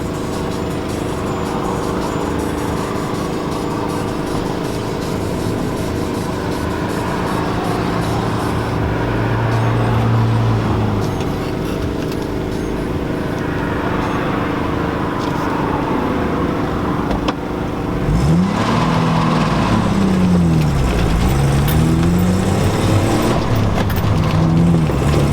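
Cars pass along a road near an idling 1990 Jeep Wrangler, a steady low traffic rumble with a couple of vehicles swelling and fading past in the second half; no one speaks.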